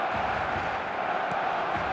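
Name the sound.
stadium crowd cheering in eFootball video game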